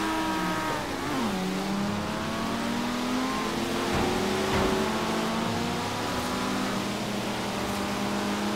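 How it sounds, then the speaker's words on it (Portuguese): A 1973 Nissan Skyline HT 2000GT-R engine revs hard at the start of a classic-car race in Forza Horizon 3, its pitch climbing through gear changes in a loud, steady drone with other cars audible nearby on a wet track. "o carro é o Nissan Skyline HT 2000 GTR de 1973"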